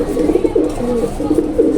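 Pigeons coo softly and steadily at close range while one bird is held in a hand, a low continuous murmur of calls with no talking over it.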